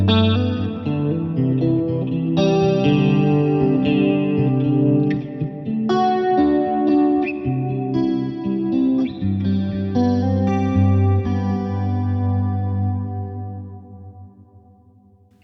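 Electric guitar with chorus and a big reverb through a Line 6 or Fractal modeler, chiming chords and single notes with shimmering, lingering tails, played alone and fading out at the end.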